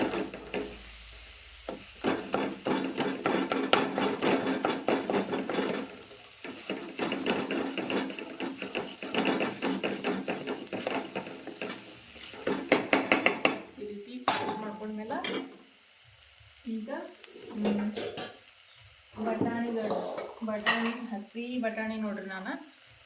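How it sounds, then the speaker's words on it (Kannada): A spoon scrapes and presses soft tomatoes in a pan while they sizzle, with repeated clinking and scraping strokes that carry on steadily and then break into short separate bursts near the end. "ಚಮಚಲಿಂದ ಈ ರೀತಿ ಟೊಮೆಟೊ ಹಣ್ಣೆಲ್ಲ ಸಾಫ್ಟ್ ಆಗೋದನ್ನ ಮಾಡ್ಕೊಳ್ಬೇಕು"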